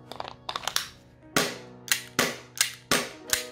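An APS CO2 airsoft pistol with a leaking magazine fires a quick burst of soft clicks, then five sharp, evenly spaced shots ringing with metallic decay, close and loud with no talk.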